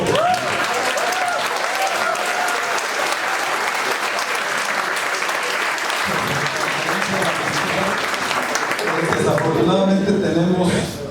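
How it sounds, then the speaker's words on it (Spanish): A lecture audience applauds after a talk on the state and society in pandemics, dense and sustained clapping that fills the whole stretch at a steady level. "Es un aplauso, por favor."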